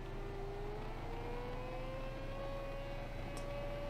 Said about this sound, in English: I am barely accelerating, but a third throttle.